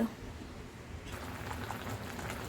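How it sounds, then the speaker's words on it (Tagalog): A pot of fish stewed with tomatoes boiling steadily, with a soft, constant bubbling and hiss that grows fuller after the first second. "So ayan, kumukulo na siya guys."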